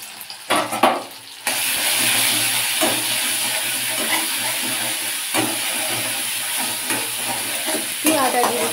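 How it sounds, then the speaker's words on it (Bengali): Ginger-cumin paste sizzles and spits in hot oil with five-spice (panch phoron) for a no-onion, no-garlic okra dish, opening with a few clinks before a loud, steady frying hiss with scraping stirs throughout. "আদা জিরেটাকে নেড়ে দিলাম গরম তেলের ওপর 5 ফোড়নের সাথে"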